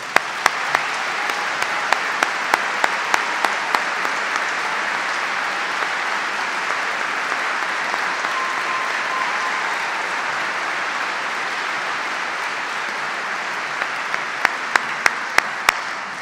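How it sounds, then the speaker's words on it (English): A large banquet crowd applauds the Duke basketball staff as they stand, a sustained wash of clapping that holds steady for over fifteen seconds, with a few sharper individual claps near the start and end. "So will everybody on our staff please stand up and let's give them a round of applause"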